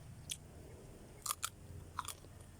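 Chewing spicy raw banana salad eaten by hand, a few sharp crunchy bites spaced apart over a low background hum, close and distinct.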